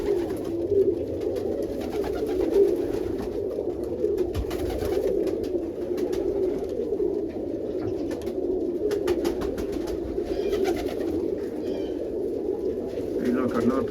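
Pigeons coo in a loft, their low, rolling calls overlapping in a steady, continuous murmur that fills the whole stretch at close range.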